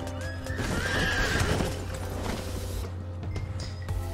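A horse in the video game Red Dead Online whinnies loudly up close, with clip-clopping hooves and game background sounds running steadily underneath.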